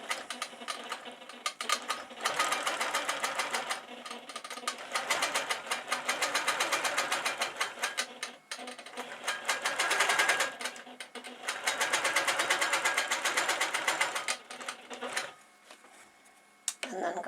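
A sewing machine stitching a large Cathedral Windows quilt: a rapid, mechanical chattering run in several long bursts with short pauses between, close and fairly loud, with a voice speaking at times over it.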